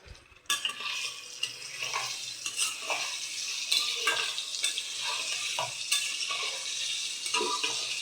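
Cubes of paneer frying in hot oil in a pan sizzle steadily while a utensil repeatedly stirs and scrapes them, with clear close clinks throughout.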